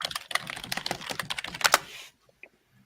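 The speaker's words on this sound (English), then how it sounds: "Just furious typing." Furious fast typing on a computer keyboard, a dense rapid clatter of keystrokes for about two seconds before stopping abruptly into near silence.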